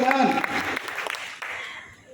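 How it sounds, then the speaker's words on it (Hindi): Applause from an audience at a political gathering in Haryana: a dense wash of clapping that starts under a speaking voice, then continues alone and tapers off toward the end. "रमेश चोटानी जी का जोरदार तालियां"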